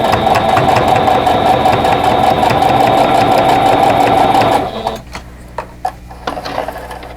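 A sewing machine chain-piecing two fabric pieces for a quilt block runs loud and steady with a fast mechanical whir for about four and a half seconds, then stops, leaving faint clicks and handling noises.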